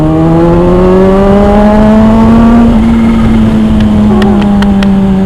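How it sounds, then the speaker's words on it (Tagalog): A big motorcycle accelerating smoothly, its engine drone rising steadily with a whistling tone riding on top, loud and close with no talking. "naririnig ko talaga yung whistle"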